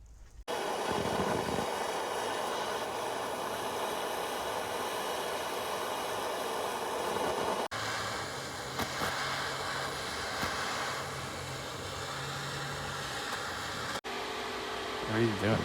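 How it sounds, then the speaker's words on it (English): A wooden skateboard camera handle being ground down thinner, heard as a continuous close, whooshing mechanical whir. It breaks off briefly twice and resumes each time. "I'm gonna grind this down skinnier"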